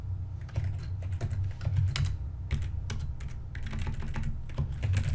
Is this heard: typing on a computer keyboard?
yes